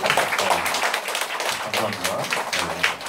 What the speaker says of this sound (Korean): 한번 다 같이 한번 일어나서 박수 한번 주실까요?